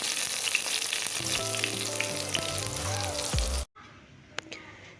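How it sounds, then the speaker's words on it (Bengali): Whole garam masala, bay leaf and cumin seeds crackle and sizzle in hot oil in a kadai, a steady loud frying hiss with faint background tones, ending abruptly near the end before brief quieter clatter. "তেল গরম হয়ে গেলে গোটা গরম মশলা, তেজপাতা আর গোটা জিরে দিয়ে দিচ্ছি"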